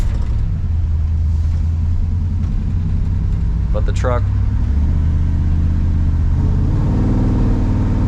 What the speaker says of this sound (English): has a great throaty sound to it. It's about half throttle. Little bit of rasp coming out of the exhaust